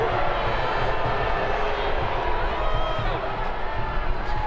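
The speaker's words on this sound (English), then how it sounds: "you hear the crowd react" A women's professional soccer stadium crowd during Orlando Pride versus Western New York Flash reacts to a disputed corner kick call, a steady broad roar of many voices that stays loud and continuous throughout.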